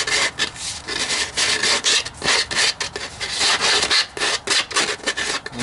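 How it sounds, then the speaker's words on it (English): A flexible sanding pad rubs briskly over an RC airliner engine nacelle, making loud, close, rhythmic rasping strokes that repeat steadily with no talking. "whatever we can't get, we just go ahead and get a flexible sanding pad."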